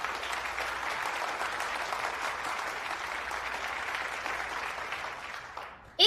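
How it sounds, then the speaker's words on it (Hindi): Audience applause in a studio for a Hindi-dubbed debate competition show, even sustained clapping throughout that fades at the very end as a brief sharp sound cuts in. "इनके लिए भी तालियां बजाइए।"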